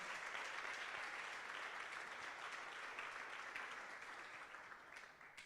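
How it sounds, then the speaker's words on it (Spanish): Continuous applause from a church congregation during a Spanish-language Christian service, heard at a distance and fairly quiet, steady before slowly fading toward the end. "Démosle un fuerte aplauso al Señor."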